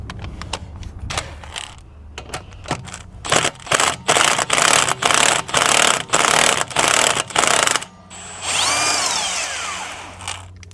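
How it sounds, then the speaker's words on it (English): Impact wrench loosening the lug nuts on a Toyota RAV4 rear wheel: about eight loud, evenly spaced rattling bursts close by, then a longer, steadier whir as a nut spins off. "Technically, you're not supposed to use an impact on these."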